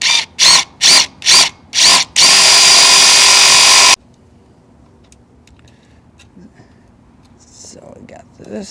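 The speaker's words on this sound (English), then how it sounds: "Drill my hole." A power drill whirs in five short bursts, then runs continuously for a couple of seconds before stopping, leaving near silence and faint rustling.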